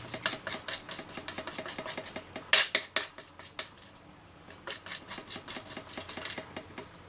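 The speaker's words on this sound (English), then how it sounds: "And this is just mixing this now with distress inks." Distress inks being mixed into talcum powder, heard as quick, light scraping and tapping strokes in an irregular rhythm, close and fairly quiet, with a couple of brighter clinks midway.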